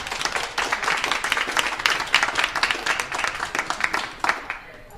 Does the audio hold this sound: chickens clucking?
no